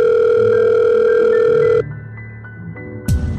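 Animated scene with a telephone tone sounding: a steady electronic dial tone holds for under two seconds, then cuts to a quieter line with soft clicks and a short burst at the end.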